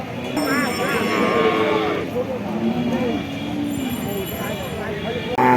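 Cattle at the Chowgacha cow market in Jessore low and moo amid a busy crowd, including a large heifer calf of local breed, with calls rising over steady chatter and people talking nearby.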